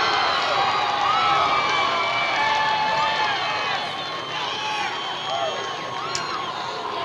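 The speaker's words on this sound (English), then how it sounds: "That's game, baby. Listen to that crowd." Football crowd at a high school state championship game roaring and cheering after a fumble recovery, a dense sustained wash of many voices with shouts and whoops, loud and continuous throughout.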